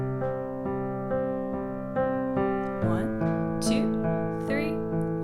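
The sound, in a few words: piano left hand pattern, 1 and 5 with chord change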